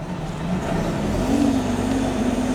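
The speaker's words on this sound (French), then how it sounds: "on démarre le moteur." A heavy modular transporter, a multi-axle trailer with 216 wheels built to carry up to 700 tonnes, fires up its engine, settling into a steady, loud diesel drone with rising pitch, heard alone without talk.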